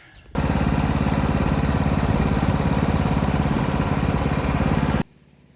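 A sawmill motor cutting across a big log starts abruptly and roars loud and steady with a rough, pulsing engine rattle for about five seconds, then cuts off sharply into quiet.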